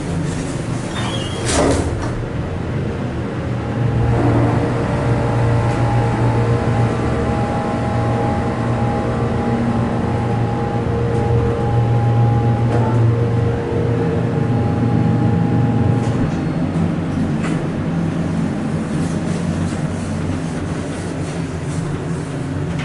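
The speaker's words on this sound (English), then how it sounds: "we have an almost completely original Montgomery elevator here to ride" An almost completely original Montgomery elevator at a Dillard's store runs with a continuous low mechanical hum and drone, steady and fairly loud throughout, with a couple of brief clicks early on.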